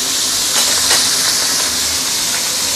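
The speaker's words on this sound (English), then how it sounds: "use high heat to pan fry this side for another 2 minutes" A fish head fries in a pan over high heat, producing a loud, steady, close hiss of sizzling oil that stays constant throughout.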